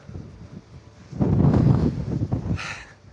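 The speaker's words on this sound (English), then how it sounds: "Wow, it's so windy!" Strong wind buffeting a microphone on a mountain hiking trail near St. Moritz in the Engadin, Switzerland, rising into a loud, rough gust in the middle and dropping back toward the end.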